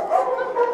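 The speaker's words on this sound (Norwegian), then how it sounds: "Det er mange hunder og en del mer støy enn det Tire er vant med i det daglige." Dogs at a busy training centre, with a short, loud, high whining yelp close by.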